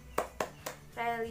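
Children clap in a classroom for a school character-education routine, three sharp hand claps in steady rhythm followed by a short burst of young voices speaking together.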